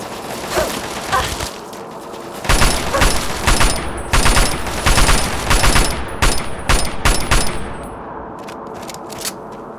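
Rapid gunfire crackles through a Fallout 3: Operation Anchorage battle, with scattered shots at first giving way to dense, sustained bursts. Metallic pings and clangs ring out between the volleys.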